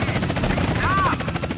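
Helicopter in a Rockstar video game, a steady loud rotor chop with rhythmic pulsing, mixed with game sounds and a brief tonal sweep, while a voice talks over it.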